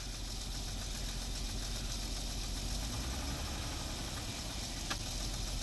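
A 2004 Jeep Liberty Renegade engine idles after a cold start, a steady, even mid-pitched running drone with faint knocking texture, heard close and without talk.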